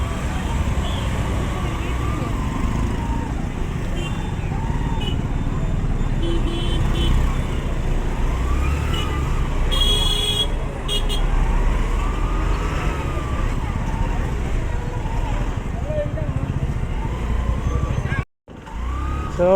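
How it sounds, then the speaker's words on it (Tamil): Busy Sunday road traffic near the Doddabetta viewpoint in Ooty, with a continuous rumble of passing cars and heavier vehicles close by and a brief horn-like tone partway through, ending in a sudden cut. "சண்டே இருக்கிறனால ஃபுல்லாக டிராஃபிக் அதிகமாக வந்திருக்காங்க."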